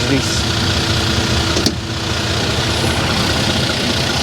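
A coach's large diesel engine idles with a steady low rumble, close and loud, with a brief knock partway through.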